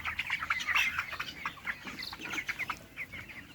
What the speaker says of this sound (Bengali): তো এখন আমি একটা মুরগি নেই, এটা যে সামনে কেটে নিই।